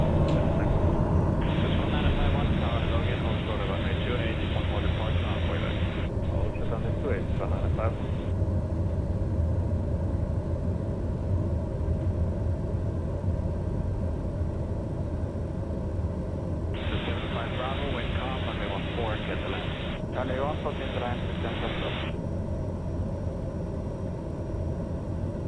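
Light aircraft taxiing slowly in Microsoft Flight Simulator, from Shoreham toward Biggin Hill, with a steady engine drone throughout and a voice talking over it.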